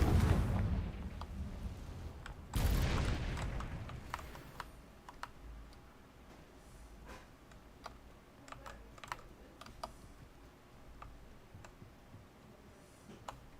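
A Confringo blasting curse erupts in Hogwarts Legacy, a sudden loud burst that quickly dies away, followed by scattered sharp clicks and small pops fading into quieter background ambience.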